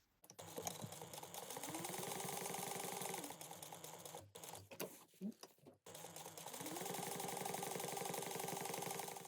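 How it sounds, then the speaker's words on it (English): A sewing machine stitches a pocket onto a crossbody bag, running in a fast, steady whir, pausing in the middle with a few clicks and handling noises, then starting up again, close and loud with no voices. "we're going to sew down the side, the bottom, and the side at 1/8 inch"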